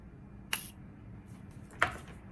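Morphe setting spray hisses out in two short, crisp spritzes about a second apart, faint and close against a quiet room.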